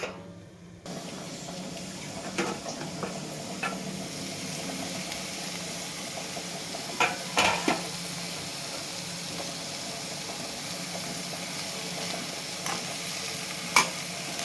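A spoon stirs bitter gourd and onion fry with salt in a pan, giving a steady sizzle with occasional sharp scrapes and knocks against the metal.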